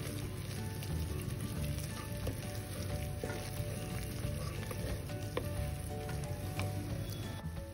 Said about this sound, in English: Add big chunk of butter and very little oil or ghee and give it a stir.